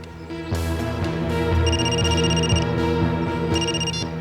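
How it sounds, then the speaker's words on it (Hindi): A telephone rings in electronic bursts, two clear rings with a pause between, over a steady musical background. "अभी अभी फोन आया"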